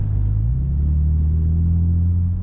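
A car exhaust with an electric exhaust cutout open gives a deep, steady idle rumble, loud and close, a constant low drone that holds for a couple of seconds with no talking over it.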